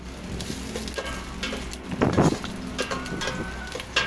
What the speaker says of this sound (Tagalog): Lagay ko muna gigisa muna ako ng sibuyas.